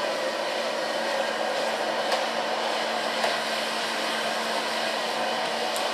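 A hair dryer runs steadily while drying and styling a man's hair, a constant close whooshing blow with a faint hum, holding the same level throughout with no talk.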